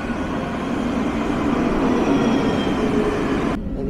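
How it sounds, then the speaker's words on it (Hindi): A city tram pulls into a stop in Nice, France with a steady loud rolling roar and faint wheel squeal, running continuously until it cuts off abruptly near the end. "ये आ रही है भाई ट्राम"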